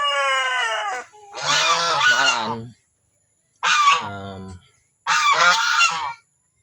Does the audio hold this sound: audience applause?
no